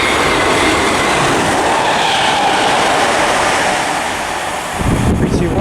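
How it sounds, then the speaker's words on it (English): A Greater Anglia passenger service from Braintree to London Liverpool Street roars past at Romford on the Great Eastern Main Line, a loud, steady close rush with heavy wind buffeting that eases off near the end. "passing now, I've got a Greater Anglia service from Braintree to London Liverpool Street"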